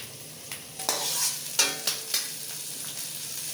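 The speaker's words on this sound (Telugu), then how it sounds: "ఈ ఫ్రైడ్ రైస్ ఎక్కువ ఈ చైనీస్ ఐటమ్స్ చేసేటప్పుడు హై ఫ్లేమ్ మీదే చేయాలి." Vegetables such as capsicum, carrot, cabbage, beans and onions stir-fried for home-style vegetable fried rice over a high flame: a steady sizzle broken by several sharp scraping tosses of the spatula, close and fairly quiet.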